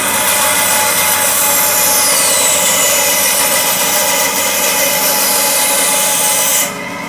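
A handsaw cuts through wood to shape a bellows cheek for Northumbrian smallpipes, a loud, close, steady rasping rhythm that stops abruptly at the end.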